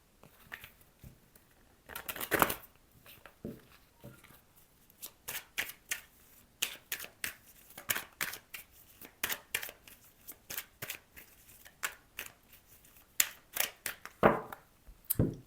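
Béline oracle cards being shuffled by hand, a run of crisp riffling bursts and soft slaps repeating in uneven rhythm, close and fairly quiet, with no talk.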